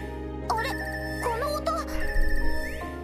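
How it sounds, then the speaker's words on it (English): Class VII phone ringtone from the Trails of Cold Steel video game, a bright melodic electronic jingle of rising and falling tones over steady game background music, with a low rumble and voice underneath toward the end. "It's the Class 7 ringtone."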